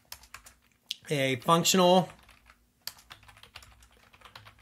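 Typing on a computer keyboard: scattered soft key clicks before and after a brief spoken phrase, close and fairly quiet.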